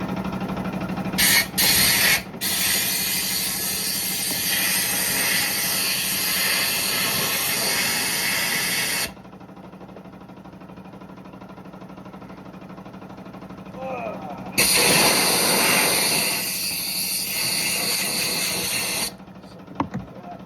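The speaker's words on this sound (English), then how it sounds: "use the air gun to blow it all out so everything evaporates" An air gun blasts in long, loud hissing bursts while blowing out parts during reassembly of a 6x6 Grizzly build. Quieter gaps separate the bursts, with brief talk.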